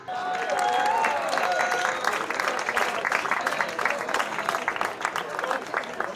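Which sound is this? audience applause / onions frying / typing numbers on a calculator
audience applause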